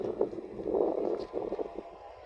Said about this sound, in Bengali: অনেক বাতাসও আছে